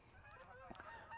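Geese honk a few times at a distance, with short nasal calls over faint background noise.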